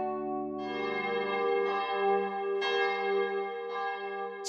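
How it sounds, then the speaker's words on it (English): A deep church bell in a video game tolls repeatedly with long ringing overtones, each strike blending into the lingering hum of the last, clear and fairly close. "did you hear that bell?"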